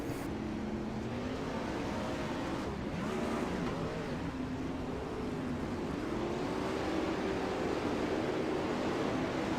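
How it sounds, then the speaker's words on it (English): Steady engine drone of 410 winged sprint cars rolling onto the Lernerville Speedway track in a sim racing game, a continuous loud rumble with shifting pitch and no pauses. "we start to see a lot of the cars to come out onto the racetrack right now"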